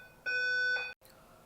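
An alarm clock rings with a steady, loud electronic beeping tone that lasts under a second before cutting off abruptly, with faint room noise around it.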